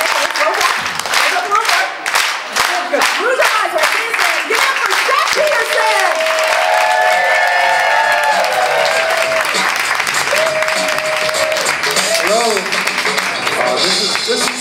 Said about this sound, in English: So I want everyone to please clap your hands right now.